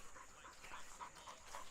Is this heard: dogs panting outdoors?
yes